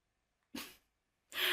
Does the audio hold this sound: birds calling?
no